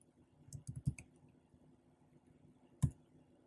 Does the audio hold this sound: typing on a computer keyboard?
yes